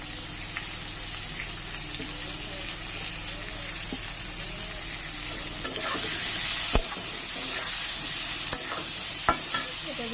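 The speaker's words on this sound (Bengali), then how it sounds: "এটাকে একটু ভেজে নেব" Onion frying in a pan for a rohu fish curry with potato gives a continuous close sizzle, with a few sharp clinks and scrapes of stirring, and no talk over it.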